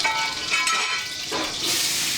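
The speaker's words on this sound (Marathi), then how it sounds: "हे आता खूप छान पद्धतीने तेल तापलेलं आहे. सगळ्यात पहिल्यांदा जिरे टाकलेले आहेत." Cumin seeds sizzling and crackling in well-heated oil for a dhaba-style whole masoor dal, a steady close hiss with brief stirring or popping swells throughout, no voices.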